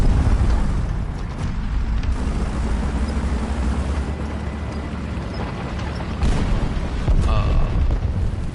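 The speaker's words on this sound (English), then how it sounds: "That bomb sounded close, it really did." Loud, rumbling bomb explosion in the War Thunder tank game, a sustained low boom with mechanical creaks around it, filling most of the clip.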